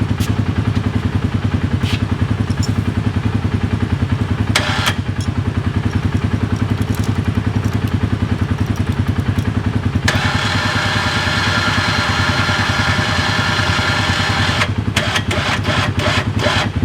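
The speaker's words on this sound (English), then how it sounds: "Here's the winch, all said and done. We'll pull it in for you guys real quick." An electric winch on a Polaris Ranger UTV reeling in its line, a loud steady motor whine over a running engine idle, with a few sharp clunks and a rise in pitch partway through.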